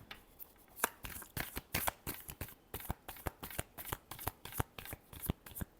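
Tarot cards are shuffled by hand in a steady, rhythmic riffle of crisp slaps and flutters, close and fairly quiet, continuing without speech.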